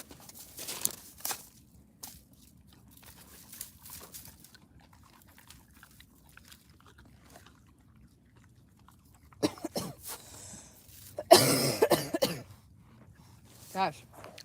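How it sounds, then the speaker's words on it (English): A sick person coughs and clears their throat a few times outdoors, short harsh bursts separated by quiet stretches, with a dog chewing nearby and some talk. "it's not a smoker's cough. I'm sick."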